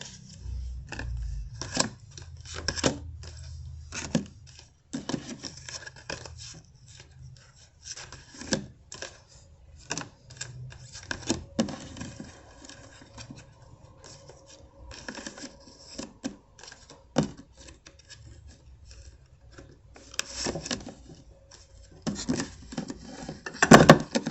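Tarot cards being handled and sorted at close range, with scattered soft clicks, taps and shuffling rustles in an irregular rhythm, quiet and free of talk.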